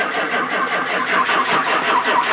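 A 1994 6.5L turbo diesel engine cranking on a low battery and failing to start, heard as a steady, loud, continuous grinding drone throughout, close by with no voices.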